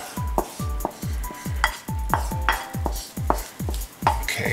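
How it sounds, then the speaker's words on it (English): A wooden spatula works fava bean mash out of a warmed bowl, giving steady repeated knocks and scrapes against the bowl, some with a short ringing tone, close and fairly loud with no talk. "coming out of the bowl that I had warmed, got my wooden spatula, get all of these in"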